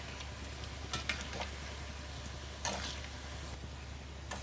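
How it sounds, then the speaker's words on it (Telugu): Chakrabanalu snacks fry in hot oil while being turned on all sides, a faint steady sizzle with a few soft ticks and stirring clinks scattered through it. "ఇప్పుడు అన్ని వేపులా ఇలా తిప్పుకుంటూ వీటిని ఫ్రై చేసేసుకోవడమే"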